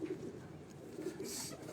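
Domestic pigeons kept by a fancier in Dharampura, Lahore, cooing in soft low repeated phrases close by, a steady murmuring coo with no talking.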